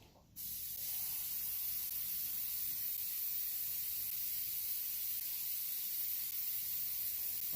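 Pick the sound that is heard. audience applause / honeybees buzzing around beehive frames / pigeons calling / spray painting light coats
spray painting light coats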